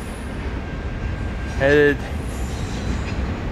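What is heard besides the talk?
freight train NS V07 passing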